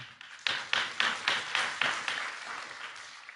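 Church congregation clapping in a slow, uneven rhythm, about eight distinct claps spaced roughly a third of a second apart, close and moderately loud, then fading out.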